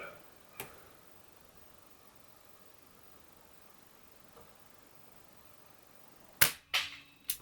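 A CO2 air gun fires at a target bull, one sharp crack near the start and a louder cluster of snappy impacts at the end, separated by quiet hiss.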